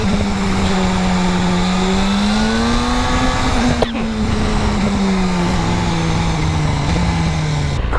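A BMW S1000RR motorcycle engine drones loudly and close, its pitch rising and falling steadily as the rider moves through the gears, with a brief dip near the middle.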